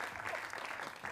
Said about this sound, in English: another round of applause for him again